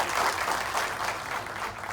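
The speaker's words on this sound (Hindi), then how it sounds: "जोरदार तालियों से आपका स्वागत" An audience gives loud applause welcoming a former director honoured at a gathering about Dalits in Uttarakhand; continuous crowd clapping, fairly distant and moderate in level, sustained evenly throughout.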